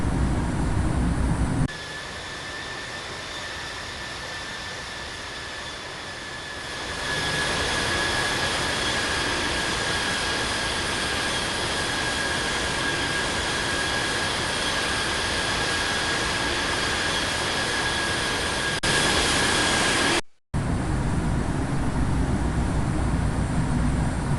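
An Air Asia Airbus A320 takes off at Sydney International Airport, its jet engines building from a steady whine into a loud, sustained roar that holds for the rest of the clip, with a steady high tone running through it.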